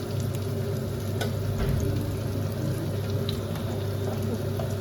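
Green capsicum frying in a pan with red capsicum, a steady close sizzle with occasional stirring scrapes, loud and continuous without speech.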